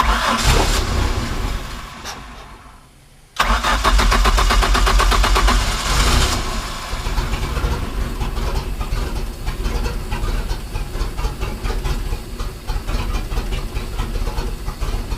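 A Mercruiser 4.3 boat engine cranks with a rapid chugging whir that slows and fades, then after a short pause it catches. It roars loudly to life and keeps running at a steady, rough idle.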